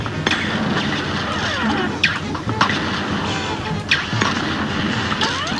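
Cuphead boss-fight shooting with steady rapid popping fire, sharp impact cracks every second or so and whooshing projectiles over a busy, loud game soundtrack.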